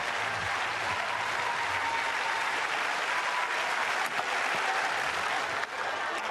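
A stadium crowd at the Bislett Games in Oslo claps steadily for a pole vaulter's attempt, a broad, even roar of rhythmic applause heard from a distance, with a commentator's voice faintly over it.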